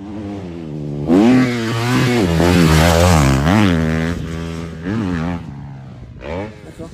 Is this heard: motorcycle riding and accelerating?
yes